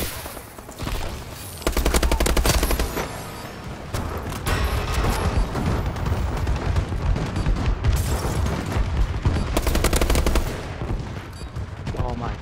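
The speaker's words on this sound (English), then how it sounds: "Enemy bombing run overhead!" Dense automatic gunfire and booming explosions from an enemy bombing run in Call of Duty: Advanced Warfare, loud and continuous for several seconds with heavy rapid bursts, close-up.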